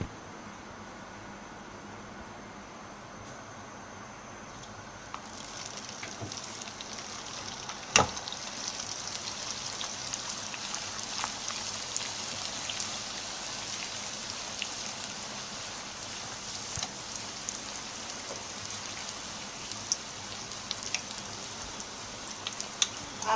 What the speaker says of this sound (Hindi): अब हम इसको उठाएंगे आराम से और ऑयल में डालेंगे